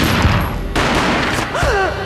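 Gunfire in the PS2 video game Max Payne: loud bursts of shots and booms over a busy game soundtrack, with a brief spoken voice.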